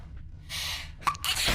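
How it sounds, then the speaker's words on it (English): A single sharp anime-style sneeze from an isekai anime, preceded by a breathy inhale and followed by a burst of noise, short and close. "This time, our protagonist dies by sneezing."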